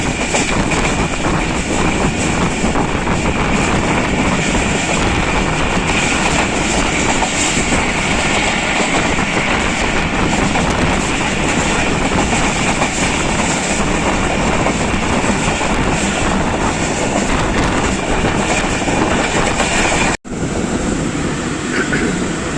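Jaffar Express passenger train rolling on rails toward Lahore, a loud, steady roar of wheels and carriage rumble with faint clickety-clack, continuous and near throughout before a brief dropout near the end.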